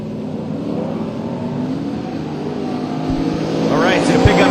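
A truck races down the drag strip lane at Atlanta Dragway with a continuous loud engine roar that builds and swells as it nears, while voices talk over the noise.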